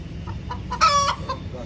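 Free-range country chickens cluck in short, close bursts, with one louder, drawn-out call in the middle of a brief stretch of low background noise.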